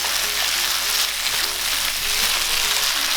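Chinese broccoli stir-frying in a hot pan for pad see ew: loud, steady, close sizzling and crackling with faint scraping of stirring underneath, continuous throughout with no talk.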